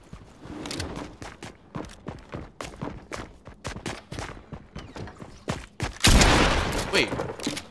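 Rapid bursts of gunfire in a Fortnite match, close and loud, fired in quick uneven volleys with heavier blasts toward the end, mixed with footsteps and a player's voice.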